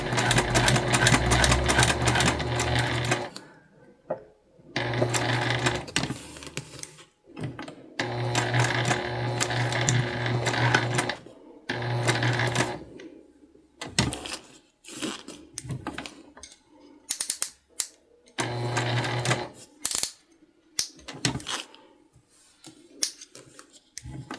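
A sewing machine stitches fabric for a baby garment pattern in several long runs of rapid, even whirring, separated by quiet gaps with small clicks and handling noises, close and without speech.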